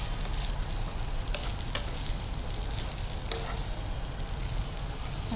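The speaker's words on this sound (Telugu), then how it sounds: "సో ఫస్ట్ ఆఫ్ ఆల్ అయితే రైస్ని ఫ్రై చేసుకోవాలి." Rice fried for sesame rice in a pan, giving a steady, loud sizzle with a few stirring scrapes throughout, close up and with no talk.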